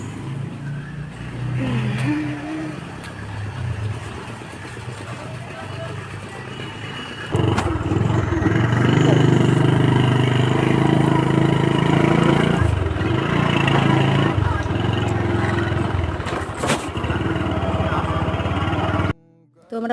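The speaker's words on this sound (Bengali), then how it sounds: "তো আমরা বাইকে করেই যাচ্ছিলাম" A motorcycle engine drones while riding along a road, steady and close with a louder stretch of throttle, speech running over it, before the sound cuts out abruptly near the end.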